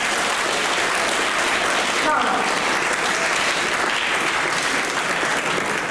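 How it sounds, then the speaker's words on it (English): Students at a school educational meet applaud themselves, a loud, continuous wash of many hands clapping in a hall, with a brief spoken word partway through. "Yes, give yourself a applause."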